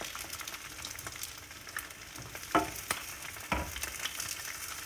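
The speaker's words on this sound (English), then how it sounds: "I'm gonna make sure that I'm giving this a good stir over here" Egg roll in a bowl filling cooking in a pan, a quiet steady sizzle with a few distinct scraping stirs of a spatula against the pan.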